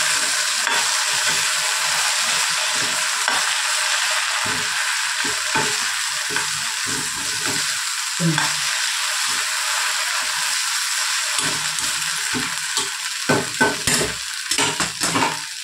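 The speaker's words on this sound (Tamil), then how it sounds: "அதேமாதிரி கிளறி விட்டுட்டு இன்னும் ஒரு 5 நிமிஷம் விடணும்." Raw banana (valakai) pieces stirred while frying in a pan, a steady sizzle running throughout with repeated scraping strokes of a spoon against the pan, louder clattering stirs near the end.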